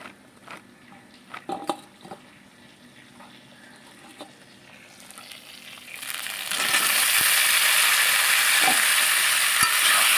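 Mung dal with chopped vegetables frying in a pan, first quiet clinks and spoon scrapes, then a loud continuous sizzle swelling up as the pan heats, steady and close with no talking.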